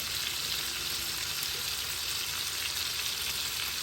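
Meatballs frying in a pan give a steady, bright sizzle throughout, close and constant, with faint stirring and flipping noises and no talking.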